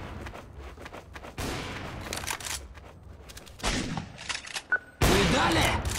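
Bursts of gunfire in the shooter game Counter-Strike: Source, with three separate volleys of rapid shots, loud and sharp, set apart by quieter gaps.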